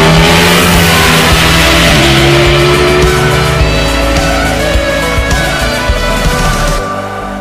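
A Ducati Panigale 1199 S motorcycle engine accelerates hard toward its rev limiter, a loud, close, continuous howl whose pitch climbs steadily across several gear pulls before tailing off at the end.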